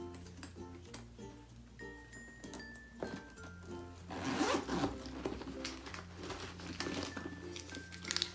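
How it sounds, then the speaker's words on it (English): A zipper on a Hello Kitty bag is pulled open in several close, quick rasping strokes, with soft rustling and handling of the fabric between them. "I'm gonna be opening up the bag to see"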